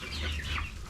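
Backyard hens, including a buff Orpington, cluck faintly in a brief burst as they squabble over an ear of corn near a rooster.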